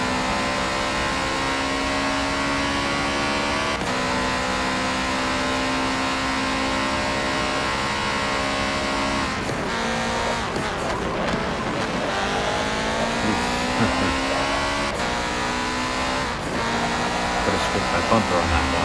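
Race car engines droning and shifting pitch at Le Mans in Forza Motorsport 7, several cars close together in a slipstream, loud and continuous with rising and falling harmonic whine and a brief shift burst midway.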